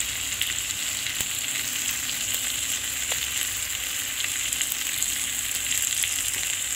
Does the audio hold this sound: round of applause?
no